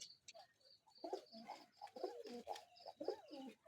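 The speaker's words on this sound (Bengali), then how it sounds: "সিরাজি কবুতর, এটা অরিজিনাল সিরাজি" Sirazi pigeons, a kept male and female pair, coo in a series of soft, rolling throaty calls close to the microphone, with faint chirps between, and no one speaks.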